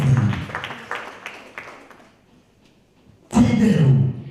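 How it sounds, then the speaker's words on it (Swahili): Church congregation clapping hands, a scattered round of claps that tails off into near silence before a louder burst of clapping returns at the end. "Pigia Yesu makofi mazuri jameni."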